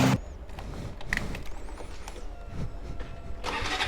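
KTM RC200 motorcycle engine starting, short cranking bursts and mechanical clatter up close over a few seconds, ending in a louder catch at the close, no talking.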